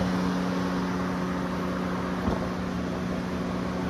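A 2014 Honda Odyssey EX-L minivan with a 3.5L V6 and 42K miles idles smoothly, a steady low hum with faint tonal whine and one brief knock midway, no voices.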